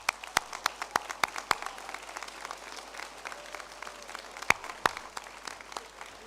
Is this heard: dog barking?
no